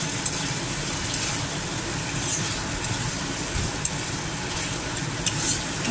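A paste of ground melon seed, poppy seed and cashew sautéing in hot oil for a Bengali doi patol curry gives a steady, close, soft sizzle that runs unbroken with no talk.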